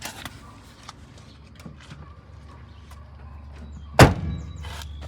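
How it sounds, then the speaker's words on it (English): A single solid thunk of a Mazda Miata door shutting near the end, after quiet handling sounds and a low background hum. "we will close the door and test it"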